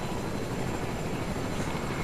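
Steady helicopter rotor and engine drone in the Fortnite video game, a continuous broadband whir holding level throughout with no talk.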